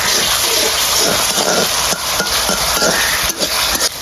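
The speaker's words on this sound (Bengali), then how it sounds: "পেঁয়াজ আর এখন একটু ভেজে নিয়েছি" Onions fry in a pan with a loud, dense crackling sizzle, broken by a few brief knocks and scrapes of stirring, heard close up with no voices.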